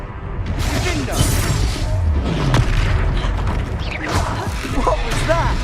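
A Confringo spell explosion in a video game, booming blasts with crashing and creaking debris over a continuous rumble, loud and busy with game effects layered throughout.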